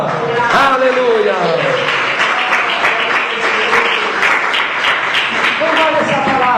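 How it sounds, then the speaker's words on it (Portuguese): Dense, steady applause fills a church service, with clapping sustained throughout while a voice talks and sings over it. "Aplaude palma!"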